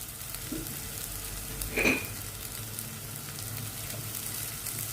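Masala for prawn thokku sautéing in a pan, a steady soft sizzle throughout with a brief louder scrape or stir near the middle.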